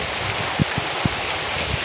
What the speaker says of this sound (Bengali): তো বন্ধুরা বৃষ্টি হচ্ছে দেখো।